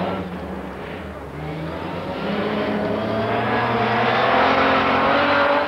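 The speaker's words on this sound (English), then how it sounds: "the most fabulous rally noise of all, a Big Healey in full cry" A Big Healey rally car engine at full cry on a historic rally stage in the woods, a loud, sustained, rasping roar that steadily builds in volume as the car approaches.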